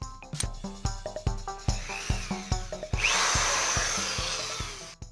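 A power drill fires in short repeated bursts, then runs in one longer whirring spell, drilling IKEA drawer or cabinet handle holes, close and fairly quiet, with no talking.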